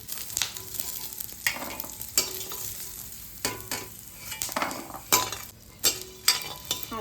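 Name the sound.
almonds and cashews roasting in ghee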